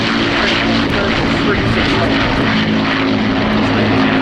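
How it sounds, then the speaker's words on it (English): A four-engined Avro Lancaster wartime bomber flies past at an RAF Leuchars airshow, its propeller engines giving a loud, continuous, broad roar throughout, overlaid by a commentator speaking over the public address. "The Lancaster, correctly regarded as the finest wartime bomber."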